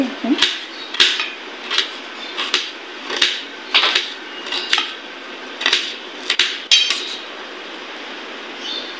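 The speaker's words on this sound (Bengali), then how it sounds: "পেঁয়াজগুলো কেটে নিচ্ছি" A knife chops onions on a cutting board with sharp, fairly regular knocks, about a dozen close strokes with brief gaps, clear and alone.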